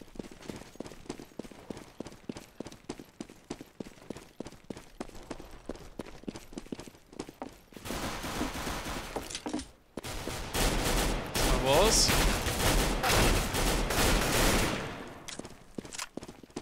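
Short bursts of rifle fire in a Counter-Strike competitive match on de_mirage ring out in rapid volleys, first as sparse crackling shots, then as dense sustained fusillades, with no talk over them.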